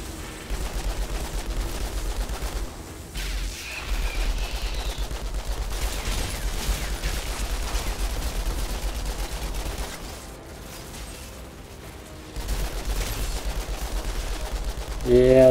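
Sustained rapid gunfire from the shooter game Outriders, loud and continuous with dense overlapping shots and brief pauses, under steady game background noise.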